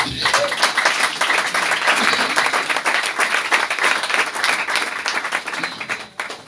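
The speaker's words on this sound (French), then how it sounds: "Si vous êtes d'accord, acclamez le Seigneur" A church congregation applauds and cheers in praise during a sermon, dense sustained clapping with raised voices filling the room at steady loudness before tapering off at the end.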